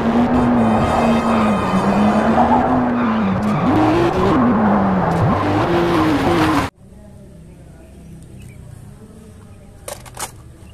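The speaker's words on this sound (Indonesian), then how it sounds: "Wow, lihat teman, ada mobil McQueen." McQueen toy race car racing and skidding, with a loud sustained whining, wavering engine-like tone and tire squeal for nearly seven seconds before an abrupt cut to quiet room noise.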